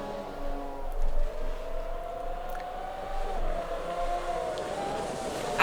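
Lamborghini GT1 race cars in a sim racing game at Virginia International Raceway drone steadily as engines hold high revs, a sustained tonal whine rising slightly, with a brief louder burst at the end.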